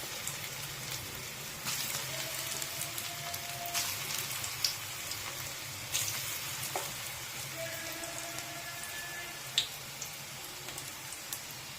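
Steady crackling sizzle of soybean koftas getting a second fry in hot oil, with a few faint clicks and scrapes over the hiss; no talking.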